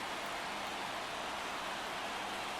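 Rain in the baseball video game MLB The Show 24 on a soggy day in Florida: a steady, dense hiss of falling rain that fills the whole stretch evenly, with no voices.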